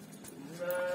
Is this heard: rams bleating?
yes